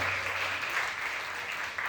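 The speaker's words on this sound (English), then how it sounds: "let's clap it up for that" Brief applause from a small audience at an open mic night, a soft wash of clapping under a low background hum, fairly quiet and steady.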